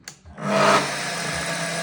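A 12-year-old small power saw motor starts up and runs at a steady buzzing whine, close and fairly loud, with no voices.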